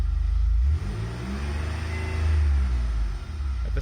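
A repaired car engine idles smoothly up close, a low steady rumble with a slight dip in level partway through and no voices.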